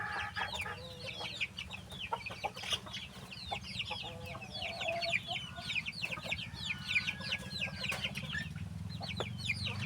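Egg-laying hens in a coop cluck steadily and overlap in a busy chorus. A low hum runs beneath the calls. No one speaks.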